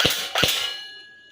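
A TG SLR V2 gel blaster toy gun fires a single shot, heard as two quick, sharp close-up snaps with a ringing metallic tail that fades.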